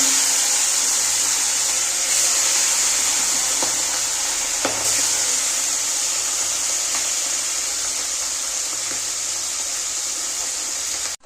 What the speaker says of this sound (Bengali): ভোলা মাছগুলোকে এখন আমি ভেজে নেব।